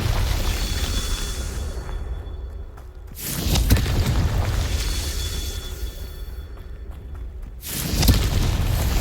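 Confringo, an explosive spell in Hogwarts Legacy, fires twice: each cast gives a sharp burst into a loud, roaring blast that sustains for several seconds, the second one cutting in near the end.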